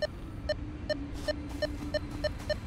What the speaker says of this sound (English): It's starting to beep at me again.